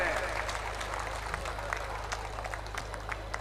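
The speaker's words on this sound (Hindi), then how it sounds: "एक बार जोरदार तालियों से उनका स्वागत करें" Scattered clapping from a crowd patters along over a steady low hum, fairly faint and uneven rather than a full roar.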